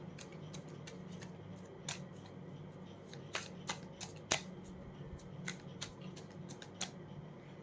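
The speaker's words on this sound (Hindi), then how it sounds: "चलिए, लास्ट शफल है।" Tarot cards are shuffled close up, their crisp irregular flicks and snaps repeating over a quiet room hum with no talking.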